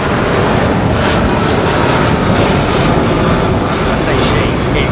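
An American Airlines jet at London Heathrow Airport roars loudly and steadily, its broad engine noise filling the air for several seconds without fading.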